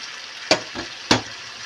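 A spoon stirs dried seasoning (cinnamon, cumin and dried minced garlic) into a pot of Greek beef stew, giving a few short scraping strokes against the pot, close and fairly soft.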